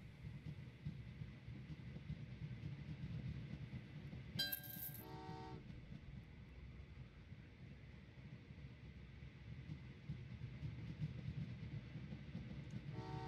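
Passenger trains run in the Train Valley 2 video game on a Swiss level: a steady low rail rumble, with one short bright horn toot partway through and no talk.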